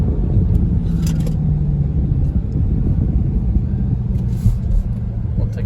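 Steady low rumble of a Dodge Durango SRT driving through corners, heard from inside the cabin with road and engine noise constant throughout.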